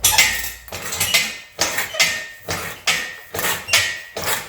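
A hand sheet-metal shrinker works the top flange of a hand-built custom hood panel for a 1940 Ford-inspired car, giving a steady series of loud, close metallic crunches and clanks about twice a second.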